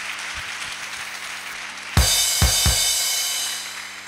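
A church congregation breaks into applause to welcome visiting guests: a quiet hum with a few low thumps, then a sudden burst of dense clapping about halfway through, punctuated by a few sharp louder claps and easing slightly toward the end.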